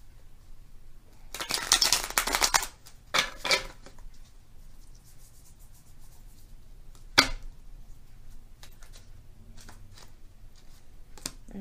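Tarot card decks being shuffled at a reading table, crisp close riffling bursts around two and three seconds and a sharp snap near seven seconds, otherwise quiet between.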